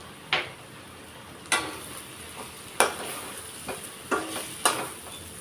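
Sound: stirring curry in pan so it doesn't stick

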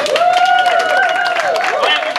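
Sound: audience applause after a song

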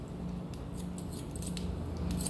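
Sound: thinning scissors cutting hair

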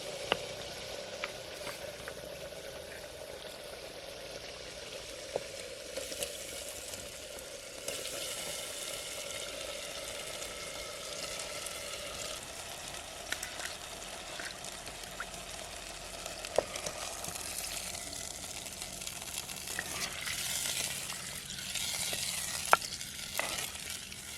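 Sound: potatoes and water added to frying spice masala in pan

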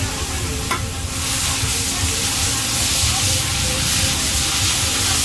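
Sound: stir-frying noodles in giant wok

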